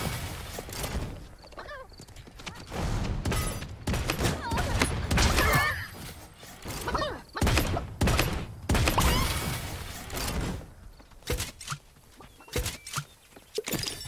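A slug rifle in the video game Realm Royale fires in bursts of sharp, broadband shots that come in irregular clusters, with short quieter gaps between volleys.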